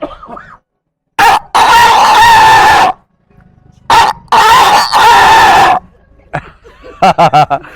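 A man mimics a chicken with loud, harsh squawking bursts, followed by a quick run of short clucking calls at the end.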